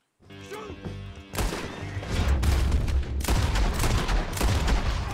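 Gunfire from Red Dead Redemption 2, a rapid volley of shots that starts faint and swells into loud, dense repeated bursts with crashing impacts and some background game noise.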